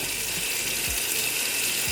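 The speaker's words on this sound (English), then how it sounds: "when you're in the shower and the water is running" Steady broadband rush of running water, continuous and fairly loud, with a couple of low thumps underneath.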